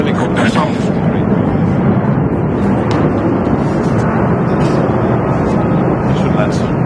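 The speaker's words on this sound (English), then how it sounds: "I think the helicopter sounds great." A helicopter flies over an outdoor arrivals area at an EU Foreign Affairs Council meeting in Luxembourg, giving a loud, constant, dense roar that fills the whole stretch without letup.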